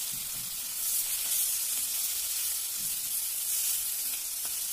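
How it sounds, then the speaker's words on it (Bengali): Chital fish (clown knifefish) frying in mustard oil in a pan, giving a continuous, even, close sizzle and hiss with faint occasional crackles throughout. "মাছটাকে খুব বেশি কড়া করে ভাজবো না, এভাবে একটু হালকা করে ভেজে নিয়েছি"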